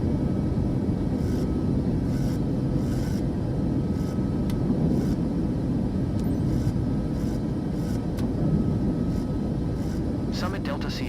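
Airliner engines roar steadily as the jet climbs after takeoff in Microsoft Flight Simulator 2024, a loud continuous low drone with a few brief clicks and chirps layered on top.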